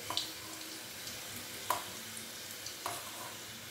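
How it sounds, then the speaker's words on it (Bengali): Chicken pieces crisp-frying in oil in a kadai give a soft, steady sizzle with a few sharp crackles and pops, all at low volume. "এটা হচ্ছে আমার লাস্ট চিকেন ফ্রাই করা হচ্ছে"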